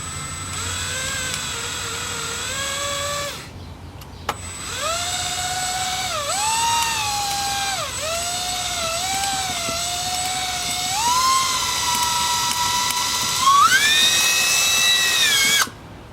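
A power drill whines loudly, drilling out a rivet on a 1988 Ford Thunderbird Turbo Coupe wiper assembly, its pitch rising and dipping as it bites into metal, pausing briefly before running on steadily.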